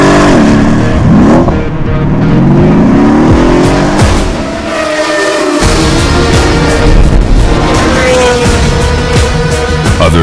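A Mercedes-AMG bi-turbo engine in a car revs hard and loud at close range, its note rising and falling through several sweeps, with a brief tire-squeal-like edge and a short dip midway.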